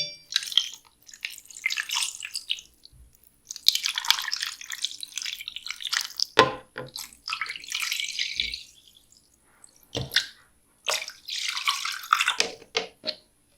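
Water poured into the pot of a Cookeo multicooker while cooking stuffed peppers with minced meat, heard as several splashing, trickling pours broken by short pauses, close and fairly quiet, with no talking.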